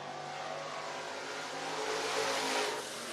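A race car on a qualifying lap at Talladega Short Track in Talladega, Alabama, its engine droning loud and steady and swelling as it passes nearer, with no talking.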